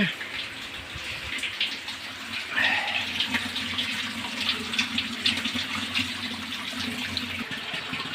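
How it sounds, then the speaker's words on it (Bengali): Water pours steadily into a barrel filter of stone, charcoal and sand, a continuous splashing rush with a low hum underneath, even and unbroken. "আমরা এখন ফিল্টারে পানি দিচ্ছি"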